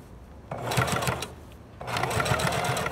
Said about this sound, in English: you back stitch